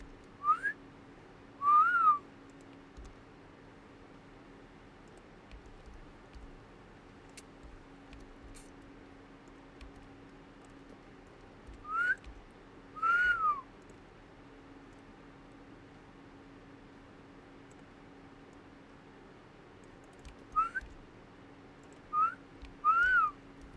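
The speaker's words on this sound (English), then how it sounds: "I can't stop whistling, you guys." A person whistles in short rising-and-falling two-note phrases, scattered in brief bursts with long quiet gaps against a low steady hum indoors.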